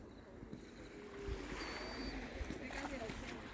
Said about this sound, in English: Just hear waves.